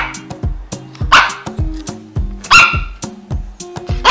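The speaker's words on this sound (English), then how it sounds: "dog. And the sound of the dog is" A dog barks repeatedly in a quick, uneven series of loud, close yips and barks, with a few whimpery notes between them.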